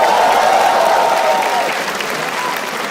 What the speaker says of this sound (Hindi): थोड़ी तालियां हमारे ओपनिंग एक्ट के लिए भी.